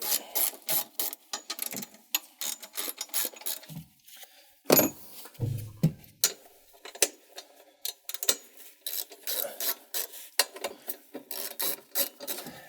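A ratchet with an extension loosens bolts during a 12V battery install on a Volkswagen ID.4, giving bursts of rapid clicking pawl ratcheting with brief pauses and a few clunks, close and alone.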